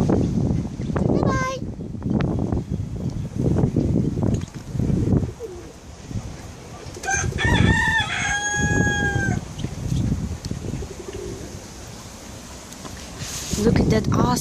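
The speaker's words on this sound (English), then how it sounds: "Look at that awesome rooster right there." A rooster crows loudly nearby on Manoel Island, Malta, a drawn-out cock-a-doodle-doo, amid wind buffeting and people talking.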